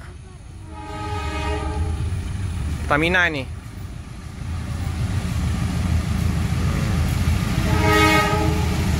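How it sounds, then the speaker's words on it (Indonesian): A coal-carrying freight train pulled by a single locomotive rumbles past steadily while its horn blares in a long, wavering blast, then sounds again more faintly later; someone speaks briefly over the noise. "nah ini kereta apinya, ada batu bara, ada di lokomotif kereta api."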